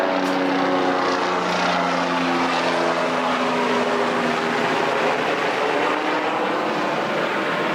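A loud, continuous droning of helicopters passing overhead, a steady roar with a low rotor-like throb that holds for several seconds.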